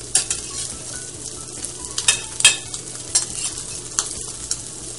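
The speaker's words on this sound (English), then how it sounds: "you'll let these cook for about a minute and a half to 2 minutes on each side, depending on the size of the lamb chop" Small lollipop lamb chops searing in a hot pan, a steady bright sizzle with crackling spatter, broken by several sharp clinks and scrapes of a utensil against the pan.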